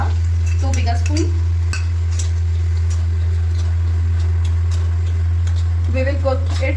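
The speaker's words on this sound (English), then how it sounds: "Now we will add semolina or rava, 2 bigger spoon." Semolina (rava) stirred and roasted in hot ghee in a pan, a steady close scraping and soft sizzle running throughout, with occasional clinks of the spoon against the pan.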